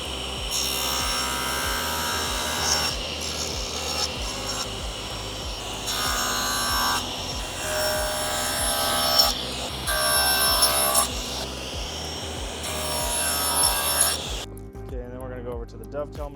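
Wooden drawer sides are trimmed at the ends with a power saw, giving a loud, continuous whining cut in several bursts that stops abruptly near the end, followed by a voice.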